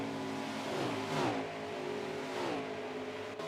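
Race car engines in a racing video game, revving hard under nitrous boost, a sustained high whine rising and falling in pitch as cars pass, steady and moderately quiet with no talk.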